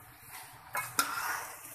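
Spaghetti being tossed with vegetables in a pan, heard as quiet scraping with two sharp metal clinks of a utensil against cookware, no voices.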